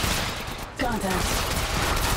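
Automatic weapon fire in the Apex Legends Mobile shooter game comes as a dense, continuous burst of rapid shots, loud and steady throughout, over busy game audio.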